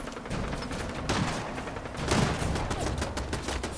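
Gunfire in the video game Fallout 4, a loud, dense barrage of rapid shots and impacts that continues with no break.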